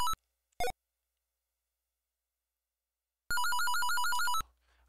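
An electronic telephone ring from an Atari 2600 video game: two very short beeps, a long silence, then a loud, harsh warbling trill of about a second that cuts off into faint hum.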